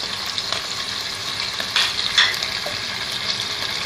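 800 grams of chicken sizzles steadily in a pan, with an even frying hiss and a few light scrapes and stirs at close range, no voices.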